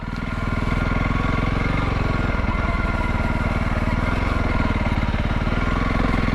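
Motorbike engine riding slowly off-road in second gear at about ten miles an hour, a loud, close, steady chugging throb with a rough rhythmic pulse that persists throughout.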